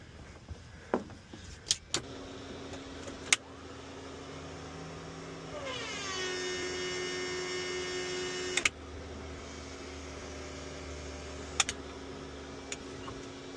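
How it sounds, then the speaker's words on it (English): A Cirrus SR22 Turbo aircraft engine during a ground run-up: a steady, fairly quiet mechanical drone that swells with a rising whine partway through, plus scattered sharp clicks and knocks, with no speech. "Gonna do a quick run up, check for leak, make sure we got oil pressure and good temp"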